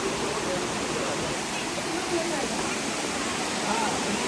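A waterfall in Meghalaya pours continuously, a steady broadband rush of falling water at moderate distance with no pauses.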